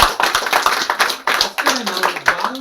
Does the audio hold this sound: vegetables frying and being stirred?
no